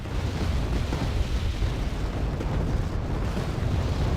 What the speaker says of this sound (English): More artillery, lots of artillery.